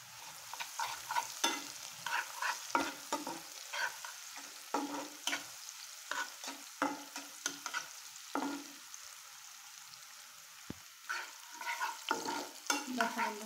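Onion, garlic and green chili fry in a pan, with a soft sizzle under frequent rhythmic scraping and clacking strokes of a spatula stirring, fairly quiet and close, with no talking.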